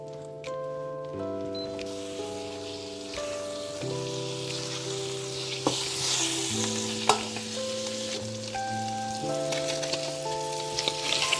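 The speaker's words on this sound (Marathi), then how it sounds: "इथे मी पनीर ना छान थोडंसं ड्राय मसाले लावून ना मी त्याला परतवून घेतलं आहे." Paneer coated in dry masala sautés in a pan with a continuous crackling sizzle, accompanied throughout by steady melodic background music.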